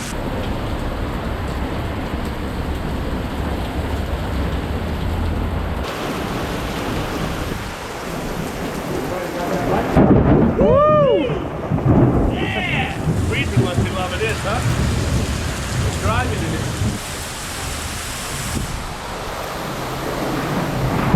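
Heavy rain pours outside a car dealership as a steady loud roar, with rumbling thunder rolling through, and a person talks over the storm partway through.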